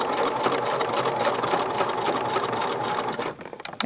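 A sewing machine stitches continuously and loudly at close range, sewing an X pattern to secure elastic inside a fabric casing, then stops abruptly near the end.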